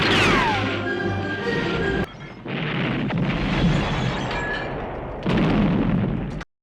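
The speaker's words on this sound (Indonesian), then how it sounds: "Si John yang sudah kelewat marah pun dengan barbarnya terus menembaki dan meledakkan bangunan yang ada di sana" Heavy gunfire and explosions tear through a building in a film action scene, a dense, loud barrage of booms and crashes that drops briefly, surges again and cuts off abruptly at the end.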